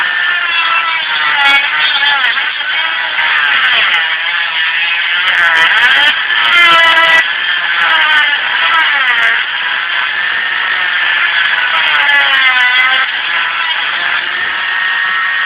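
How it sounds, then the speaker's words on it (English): Dremel rotary tool fitted with a side cutter bit trims a plastic part on a Johnson Formula Lotus 72 model, giving a steady, loud high-pitched whine that wavers slightly as the bit bites, close up with no talking. "Put the side cutter back in the Dremel."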